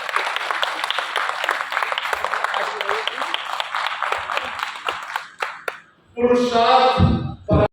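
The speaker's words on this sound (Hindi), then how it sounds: "मैं आपसे अपील करता हूं कि इनके लिए स्टैंडिंग ओवेशन दीजिएगा" An audience at a distillers' association summit gives loud applause for a standing ovation, dense clapping that thins out near the end before a burst of voices and a brief tonal sound cut in.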